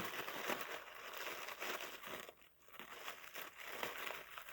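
Paper crinkling and crumpling up close, a continuous rustle with uneven bursts and one brief pause, quiet and with no talking.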